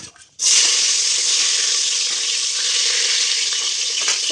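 Chillies and onions hit hot oil for egg biryani, bursting into a loud, dense, continuous sizzle that holds steady for several seconds right up close, with no talking.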